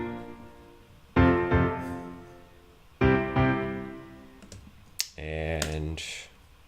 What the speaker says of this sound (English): I just had another piano track where I was playing like some chords and stuff throughout the song.